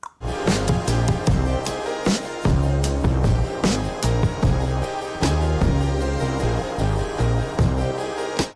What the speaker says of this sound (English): Rim shot is when you hit like just the rim of the snare